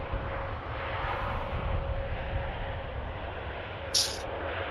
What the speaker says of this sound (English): Ryanair just arriving in from Funchal.